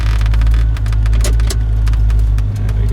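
A V8 car idles and then pulls away in first gear without throttle, giving a loud, steady low engine rumble with a few clicks and knocks over it.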